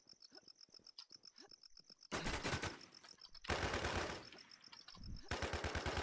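Automatic gunfire in the video game Infestation, first as rapid distant-sounding rattles, then as loud, dense, sustained bursts that dominate the scene, with a faint high electronic tone running underneath.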